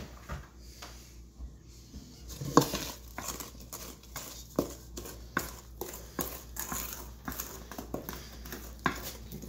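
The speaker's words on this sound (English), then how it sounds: "we're going to mix the rest together with a wooden spoon" A wooden spoon mixes chocolate cupcake batter in a bowl at close range, giving irregular soft knocks, scrapes and taps against the bowl with a quiet room hum underneath.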